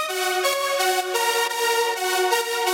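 A lush supersaw synth patch built in FL Studio, thick stacked detuned voices, holds sustained bright chords that change every half second or so, loud and steady with no other sounds.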